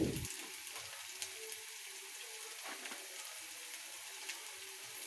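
Ginger, garlic and cashew paste frying in a pot for chicken biryani, a faint, steady crackling sizzle with a few soft pops and no voices.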